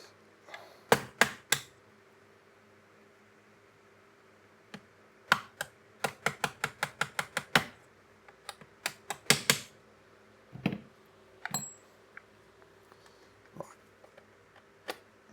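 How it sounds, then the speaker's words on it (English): Pins being tapped out of a shotgun trigger group, a series of sharp, close metallic taps coming in quick bursts and scattered single knocks over a quiet background. "So I'm just going to go ahead and tap these pins out"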